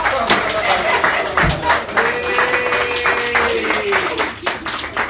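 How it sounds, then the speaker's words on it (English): Audience at a late-night comedy night in a New Jersey joint claps in a steady scattered patter through the whole stretch, mixed with a whistle-like tone and crowd murmur. "Damn, can y'all clap?"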